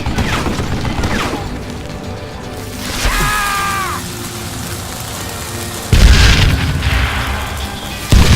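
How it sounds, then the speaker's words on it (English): Dynamite goes off in the Western shooter game Call of Juarez Gunslinger, giving loud booming blasts with a sharp burst near the end, set among game effects and a short metallic whine. "Luckily, I had located some dynamite."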